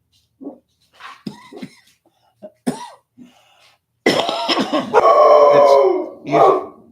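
Dogs bark and howl nearby after a truck pulls away, in short, scattered bursts that build into a loud stretch of overlapping barking and howling, with a brief cough-like sound early.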